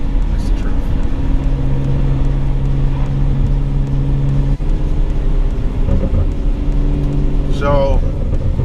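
A BMW 135i cruising from the inside, a steady low engine drone and road rumble running throughout, with people talking over it.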